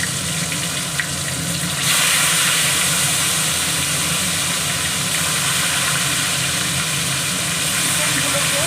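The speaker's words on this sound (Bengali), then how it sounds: "তো এবার চিকেনগুলোকেও আমি হালকা ফ্রাই করবো" Chicken pieces lightly frying in a pan make a dense, steady sizzle up close, growing slightly louder partway through and holding level to the end, with a voice faintly underneath.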